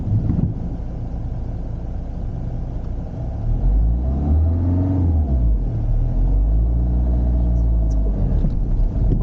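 A car pulls away from a stop as a learner driver releases the brake, the engine rumbling loudly and rising in pitch as it revs, then holding a steady throaty drone, close and continuous with no talking.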